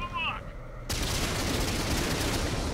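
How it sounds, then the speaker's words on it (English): Tank gunfire in World of Tanks on PS4: after a brief quiet opening, a sustained loud barrage of shots and battle noise takes over and roars on steadily. "Put a bunch of rounds into him."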